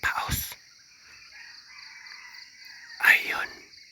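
A wild junglefowl crows in the distance, followed after a pause by an answering crow from a domestic gamecock, with faint insect buzz and a quiet breathy voice between.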